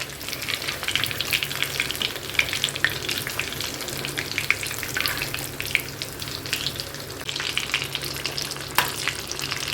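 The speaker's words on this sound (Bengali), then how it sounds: "ভাজা চলছে" Fish deep-frying in a generous amount of hot oil, a close, busy crackle and spatter with bright popping bursts and some stirring, continuing without talk.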